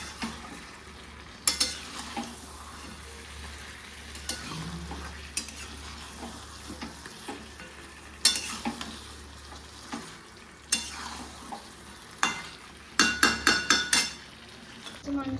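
Meat is sautéed for biryani in a pan, giving a low, continuous sizzle. A spoon stirs and scrapes against the pan several times, with a cluster of sharp clanks near the end.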